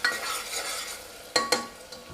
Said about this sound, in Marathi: जरा आता कांदा गोल्डन होईपर्यंत परतवून घेऊया